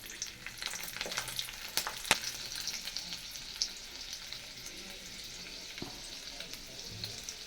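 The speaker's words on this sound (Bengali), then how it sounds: "দিয়ে দিচ্ছি গোটা রসুন" Whole garlic cloves fry in hot oil beside green and dried chillies, a steady, fairly soft sizzle with scattered sharp crackles and pops.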